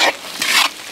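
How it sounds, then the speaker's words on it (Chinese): Chopped chili and pickled mustard stir-fry in lard with ginger and garlic in a wok, two quick bursts of sizzling, scraping stirring, loud and close, no talk. "烧油，加点猪油，加点姜蒜米，剁椒，炒到剁椒出红油，放到榨菜"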